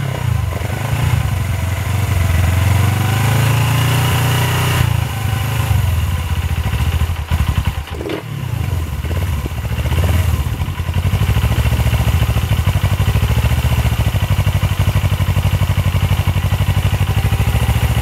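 Suzuki GS500 motorcycle idling on its existing exhaust, running a bit rich when cold, a loud steady low throb with mechanical clatter close by that continues for the whole stretch.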